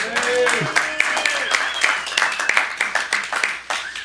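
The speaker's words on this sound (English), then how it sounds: "Let's hear another round of applause for Haig." Applause at a school board of education meeting in Burbank, a room of people clapping steadily for several seconds with sharp individual claps standing out, while a voice speaks over it near the start.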